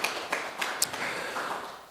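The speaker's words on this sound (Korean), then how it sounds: "감사의 의미로 박수 한번 부탁드립니다" Scattered hand claps from a church congregation during a worship service, a loose patter of sharp taps that rises and thins over a couple of seconds in a reverberant hall.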